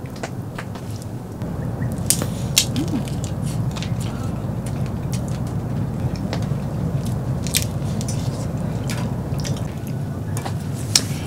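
Seafood leg and body meat is torn apart and eaten at a solo winter campsite in heavy snow among pines, with sharp close-up crunches and wet bites scattered over a steady hiss of background noise.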